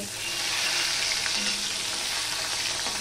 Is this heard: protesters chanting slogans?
no